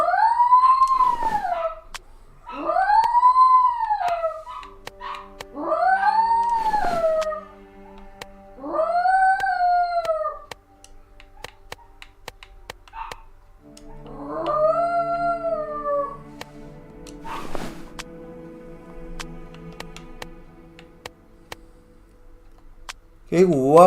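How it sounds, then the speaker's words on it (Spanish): Wolves howl in Sherlock Holmes The Awakened, a rainy night scene on Xbox Series X. Four long rising-and-falling howls come in steady succession, then an overlapping chorus of howls, with faint patter underneath and a sharp thud near the end. "Joder, con los lobos."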